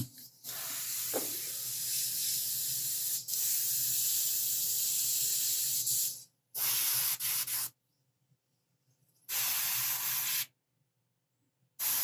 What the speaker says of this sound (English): Thought I had it spraying the way I want.